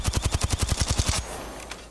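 Automatic gunfire in Apex Legends, a rapid, evenly spaced burst of about a dozen loud shots that stops abruptly, leaving a short ringing tail.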